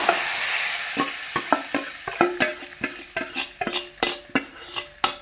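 Sweetened, salted ghotan fruit goes into a hot pan with an initial hiss, followed by a series of sharp clinks and scrapes of a spoon against the pan at an irregular pace.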